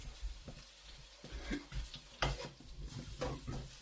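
Green pepper and other vegetables stir-fry in a hot pan with rice wine vinegar for a beef in black bean sauce dish: a continuous sizzle broken by repeated scraping strokes of the utensil across the pan.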